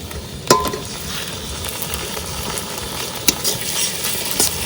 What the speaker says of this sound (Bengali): পেঁয়াজটা ভাজা হয়ে গেছে, হালকা ব্রাউন করে ভেজে নিয়েছি